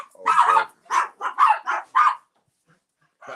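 Dogs in a home bark in a loud, close burst of about five sharp barks in quick succession, then fall quiet before another starts.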